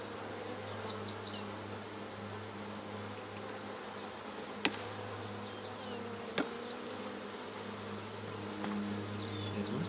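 Mountain Grey Caucasian honeybees buzz steadily in a dense, continuous drone during a hive inspection, with a couple of sharp clicks cutting through.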